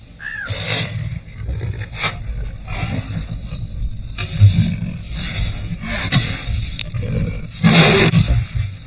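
A wild leopard in the mountains of Arabia gives its mating call, a series of rough, rasping roars in uneven bursts, fairly loud over a noisy outdoor background.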